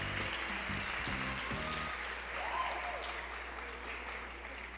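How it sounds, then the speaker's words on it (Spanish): An audience at a women's forum in Mexico applauds in a steady, dense wash of clapping, while a voice speaks briefly over the start. "Un aplauso a Lidia, adelante por favor."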